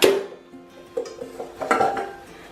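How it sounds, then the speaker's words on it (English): A half lemon rubbed over a metal whisk attachment and mixing bowl while making meringues gives light clinks and scrapes of metal, a few knocks near the start and end, close and without talk. "So with the half lemon, just wipe over your whisk attachment and also"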